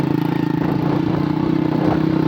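A motorcycle being ridden, its engine putting out a steady pulsing mid-pitched throb with a slight rhythmic flutter, close and continuous over a couple of seconds.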